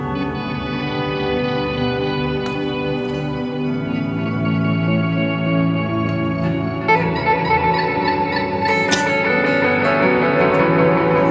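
Sustained electric guitar chords through a Chase Bliss Mood pedal with octave added, a thick, doubled low octave beneath, ringing continuously with slight grit and a brighter strum near the end.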